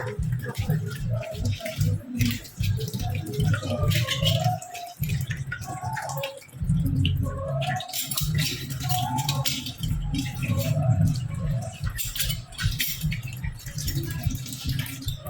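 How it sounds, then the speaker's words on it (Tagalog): Dishes are washed at a home sink: water runs and drips with light clattering and rattling, under people talking and laughing close by. "Ayusin mo maghugas ha."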